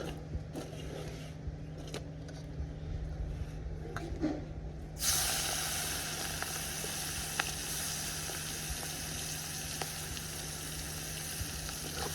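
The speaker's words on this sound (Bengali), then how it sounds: "এই তেলটার মধ্যে আমি চিংড়ি মাছটা ভেজে নেব" Shrimp frying in oil with salt and turmeric, a steady bright sizzle that swells sharply as the food hits the pan and then crackles on evenly.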